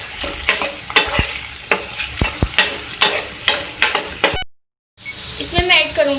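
Chopped garlic sizzles in hot oil for baingan tamatar bharta while a spoon scrapes and stirs in repeated sharp strokes; after a brief gap the sizzle returns louder and steadier.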